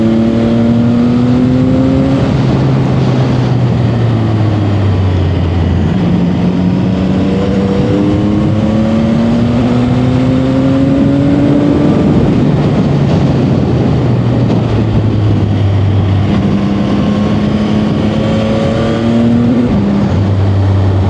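A CF-Moto 675 SR-R sport motorcycle engine revs up repeatedly through the gears, its pitch rising and dropping in loud, continuous sweeps under wind noise.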